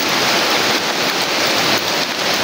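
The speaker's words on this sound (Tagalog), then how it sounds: "inabutan na kami ng malakas na ulan" Heavy rain pouring down outdoors near shallow water, a loud steady hiss of dense drops with no pauses.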